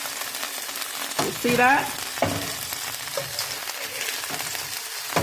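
White fish fillet searing in a hot pan just after being flipped, giving a steady broadband sizzle and crackle that carries through the whole clip, with a brief spoken remark and a few clinks of a utensil over it.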